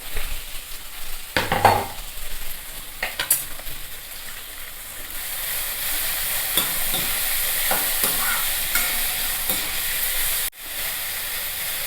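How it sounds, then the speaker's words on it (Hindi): Finely chopped onions and green chillies fry in a pan, a steady close sizzle and hiss with a few spoon scrapes and stirring clatters early on, and no talking. "प्याज को अच्छे से फ्राई होने देंगे।"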